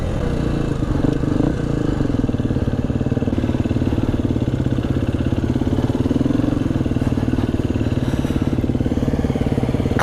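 2020 KTM 250 EXC-F dirt bike rides through wet, slippery ground with its rear wheel spinning up, a loud, close, steady single-cylinder engine rattle and drone that holds up throughout, with no speech.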